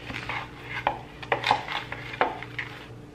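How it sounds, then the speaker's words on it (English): A utensil stirs chicken and paprika in an Instant Pot, making close, irregular scraping clatters and knocks against the pot over about three seconds, with no voices. "let's stir this up"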